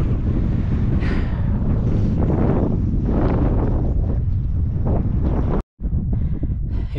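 Strong wind gusts buffet the microphone in a heavy, continuous roar that cuts out briefly near the end, with no talking.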